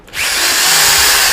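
A power drill from a cheap toolkit whirs up from a quick start into a loud, close, steady high-pitched whine that holds for about a second, with no voices.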